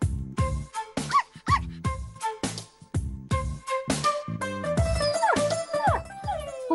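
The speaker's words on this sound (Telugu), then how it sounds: "కుక్క." Sharp dog barks and yips play as a sound clue on a Telugu TV game show. They come in loud, rhythmic bursts with short gaps and no talk.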